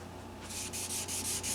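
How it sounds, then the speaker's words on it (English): Steady rhythmic rubbing of 600-grit wet sandpaper, back-and-forth strokes repeating about every fifth of a second, close and moderately quiet. "you can start wet sanding it"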